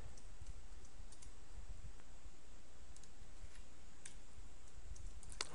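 Quiet computer keyboard typing, a soft run of scattered clicks and taps over a low background hum, with no voices.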